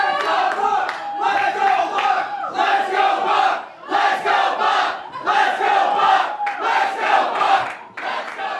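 A roaring crowd at an arm wrestling championship event, loud sustained shouting and cheering that comes in rolling surges, with a few claps buried in the din.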